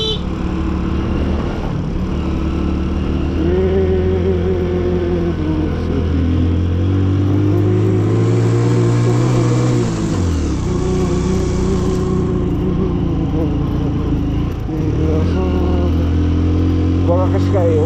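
Car engine labouring steadily up the Zojila pass in Ladakh while overtaking a Scorpio, a loud continuous drone that swells and dips in pitch as the driver works the throttle, with no gaps throughout.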